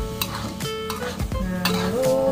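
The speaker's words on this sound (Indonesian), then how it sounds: "Ini kita braise dulu sebentar sampai gulanya larut" Sauce with kecap manis and sugar braises in a pan, a bubbling sizzle broken by several clinks and scrapes of a utensil stirring against the pan, close by and without talk.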